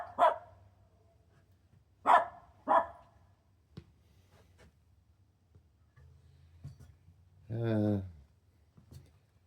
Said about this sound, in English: I'm gonna go see what my dog's barking at.